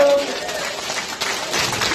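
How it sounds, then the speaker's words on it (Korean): An audience at a Korean diet-product seminar claps, a broad, fairly loud wash of applause under and around a raised voice, with a brief tone at the start. "박수 한번 주십시오"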